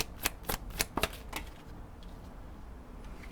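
Tarot advice cards being shuffled by hand, a rapid burst of crisp riffling snaps in the first second and a half, then trailing off to a few faint flicks over a quiet room.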